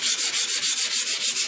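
Sandpaper rubbed by hand in quick, even back-and-forth strokes during restoration of a Westinghouse H-196, a close, loud hissing scrape repeating about eight times with no talking.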